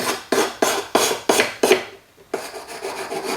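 A metal file rasps along the edges of a melted sterling silver cuff in about six quick, close, even strokes. After a brief pause, a lighter run of rubbing strokes follows.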